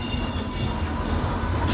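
The Mangala Lakshadweep Express running close by: a loud, continuous rumble of rolling wheels on rails with a faint steady whine, heard alone.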